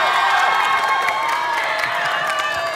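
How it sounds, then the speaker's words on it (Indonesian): A studio audience at a televised children's singing competition applauds and cheers for a young contestant, a dense, continuous roar of clapping and excited shouts. "tepuk tangan buat Kanesia ya."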